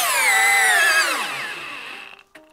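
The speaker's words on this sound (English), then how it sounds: "So this is first a 3-inch SPAX. Now we are going to be trying these in speed 2." A Bosch 12V drill in speed 2 drives a 3-inch SPAX screw with a loud, high whine that drops in pitch as the motor loads up, then fades out and stops, with a small click at the end.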